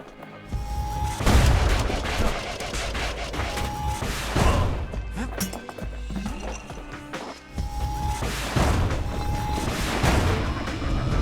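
Heavy gunfire and booming blasts from the video game Bastion, loud repeated bursts and crashes at irregular intervals, close and forceful, alone without talk.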